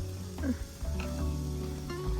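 Pork sizzles on a hot grill pan during a Thai mookata barbecue, a soft steady crackle with a brief stir partway through, heard up close and fairly quiet.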